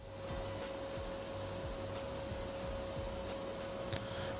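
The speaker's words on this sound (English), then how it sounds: "Vacuum cleaner tutorial" A vacuum cleaner hums in the Gaming Cafe Simulator game, a steady loud drone with a constant whine and faint clunks of objects being sucked up.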